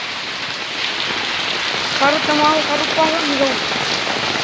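Heavy rain pours down steadily in Jaffna under dark clouds, a dense, loud hiss of water on surfaces throughout, with a brief voice speaking partway through.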